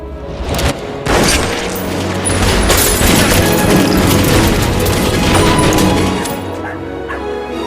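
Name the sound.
burst of gunfire in film scene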